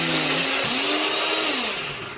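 A blender runs steadily, grinding a spice paste with water added to help it blend smooth, a loud continuous whir with a motor tone that dips and shifts as the blades churn through the mixture.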